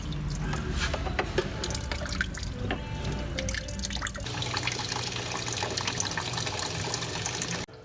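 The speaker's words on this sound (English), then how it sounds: "I'm looking at the coolant that's coming out of here." Engine coolant drains from a loosened hose on a DeLorean car, a steady trickling and dripping of liquid heard close up, continuous and fairly constant, with no talk.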